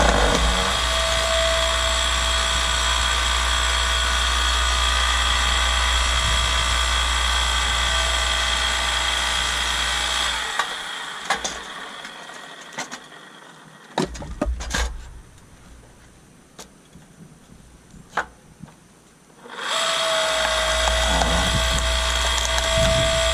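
A log splitter works through wood, its engine droning loud and steady for about ten seconds, then going quiet for several seconds of sharp cracks and splintering before the engine roar returns.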